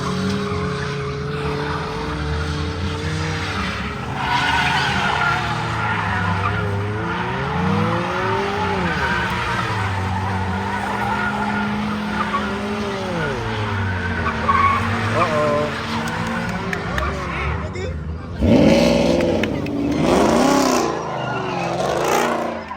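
A front-wheel-drive car skids at a car meet, with tires squealing in long wavering tones over engine revving, while people talk nearby and a sharper squeal bursts out near the end.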